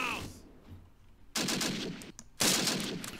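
Gunfire from the World War II tactics game Close Combat comes as two sharp bursts of automatic fire separated by about a second, with a quieter stretch before them and each burst trailing off.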